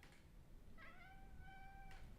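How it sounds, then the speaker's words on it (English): Pet cat meowing indoors, one faint drawn-out tonal meow with a short chirp at the end, against quiet room background. "You can see my cat is singing now."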